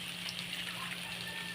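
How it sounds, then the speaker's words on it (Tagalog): A little water poured into a pan of sautéed corned beef gives a steady, soft hiss and trickle that lasts the whole brief moment, close by and unbroken. "Kukuha tayo ng konting sabaw. Lalagay ako ng konting tubig."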